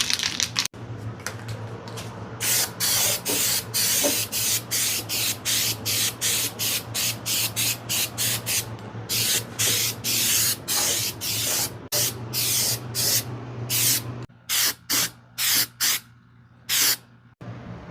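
Steel-It aerosol paint sprayed from a can onto a car subframe, a loud steady hiss broken into many short and long bursts with brief pauses, ending in a run of quick choppy sprays.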